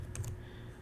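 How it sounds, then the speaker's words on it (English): Quick, close clicks of a computer keyboard being typed on, a short cluster of a few keystrokes, with no talking. "Let me type this detail"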